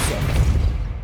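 A Depulso force spell lands in Hogwarts Legacy, a short, dense, full-bodied blast with a low thumping rumble that stays loud through the whole burst and then cuts off.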